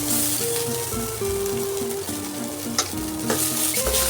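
Ginger sizzles in hot oil with cumin seeds in a pan while making flattened rice cutlets, giving a continuous close frying crackle with stirring over a soft tonal background.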